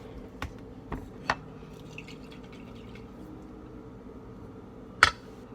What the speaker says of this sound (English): the W sauce, the W sauce, all I'm gonna tell you. I use just a little taps of it.